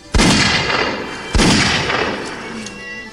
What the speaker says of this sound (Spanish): un tiro certero le rompió la columna vertebral a Encarnación.